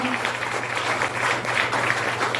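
A church congregation applauding, dense sustained clapping from many hands at moderate distance, steady for a couple of seconds with a faint voice underneath.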